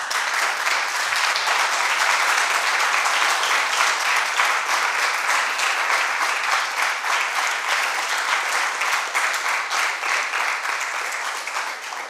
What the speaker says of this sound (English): You clapped a little bit too early.